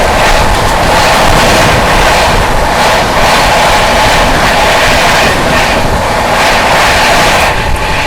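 The Kalindi Express passes close alongside the Seemanchal Express, which is running at about 130 km/h. The result is a loud, dense rush of rumble and wind with rhythmic pulsing from the passing coaches, and no voices.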